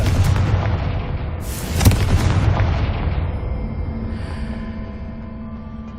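A Confringo fire spell bursts in the Hogwarts Legacy video game: one loud, close explosive boom with a crackling burst, then a long rumbling decay fading over several seconds.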